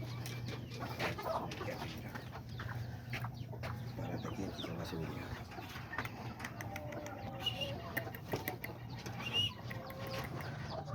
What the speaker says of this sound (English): That's the black Azteca rooster that he has right there.